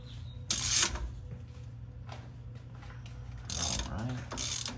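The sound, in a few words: ratchet with socket extension loosening differential plug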